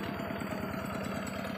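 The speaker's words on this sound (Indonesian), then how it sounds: "nah sekarang sudah pakai mesin traktor nih Sobat" Tractor engine running steadily in a rice paddy in an Indonesian village, a continuous low mechanical chug with a regular pulsing beat, fairly close and alone without voices.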